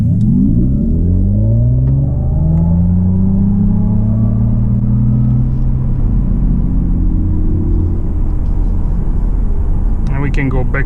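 A 2027 Mercedes CLA 350 Shooting Brake, an entry front-wheel-drive model, launches hard from a standstill to 60 mph, its engine note climbing steadily in loud, continuous rising sweeps through the gears before easing off near the end.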